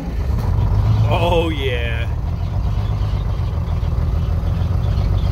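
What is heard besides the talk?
CAT 14G motor grader engine starting and idling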